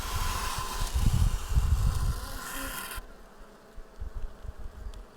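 Honeybees hum densely and close around a calm beehive in an apiary, with loud swelling buzz early on that thins to a lighter, scattered drone.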